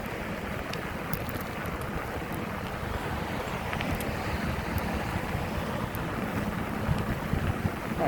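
Steady headwind rushing and buffeting across the microphone while bicycling along a Sanibel Island beach in Florida, a continuous broadband roar that swells slightly toward the end, with no speech.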